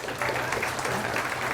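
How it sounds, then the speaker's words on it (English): An audience claps at a cooking class with Chef Adolfo Perret presenting Peruvian dishes, steady dense applause that holds for the whole moment with no talk over it. "Claps."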